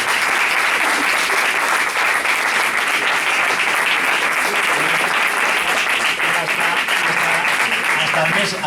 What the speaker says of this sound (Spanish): vamos a otro aplauso